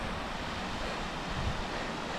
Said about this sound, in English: we've got sort of series of gentle cascades, still in this very gorgeous blue